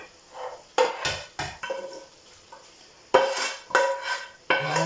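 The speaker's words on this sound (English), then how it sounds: "I'm going to put it into a nice serving dish." Pasta being tipped into a serving dish after making puttanesca, with several bursts of scraping, clinking utensil and dish knocks separated by short pauses, close and moderately loud with no talking.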